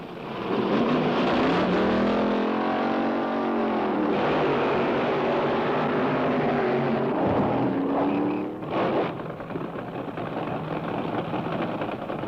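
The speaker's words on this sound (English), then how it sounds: "you watch those dragsters at the drag strip" Dragsters roaring at a drag strip, a loud sustained engine blare with rising and falling pitch sweeps as cars pass, fading slightly near the end.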